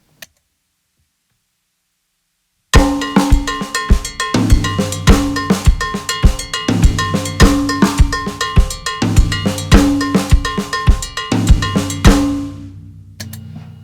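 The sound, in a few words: drum kit playing Mozambique pattern with cowbell and flammed snare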